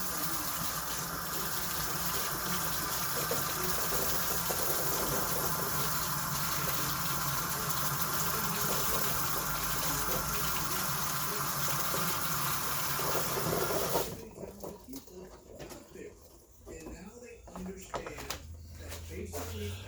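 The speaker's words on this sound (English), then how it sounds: "let me wash this real quick before this stuff gets hard" Something rinsed under a strong gushing stream of running water, loud and continuous for about fourteen seconds before cutting off abruptly, leaving quieter room sound.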